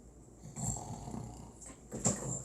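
A person imitates snoring with their voice, making rough, throaty rasping breaths in two or three uneven bursts at close range.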